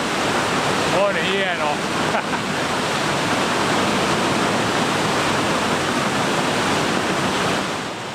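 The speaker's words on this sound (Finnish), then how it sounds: "Se on niinku kattila, mihin 2 vesiputouksen vedet juoksee." Two waterfalls pour into a rock basin in Reisadalen, Norway, a loud, steady roar of rushing water filling the scene throughout, with a brief spoken phrase near the start.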